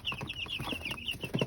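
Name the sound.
three-day-old broiler chicks in a brooder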